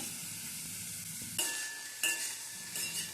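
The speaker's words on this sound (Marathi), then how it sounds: "त्याच्यामध्ये गवार टाकून घ्यायची आहे आपल्याला आणि ती छान भाजून घ्यायची आहे तेल न टाकता" Quiet, steady crackle of cluster beans roasting in a dry pan without oil, with a few metallic clinks and scrapes as they are stirred.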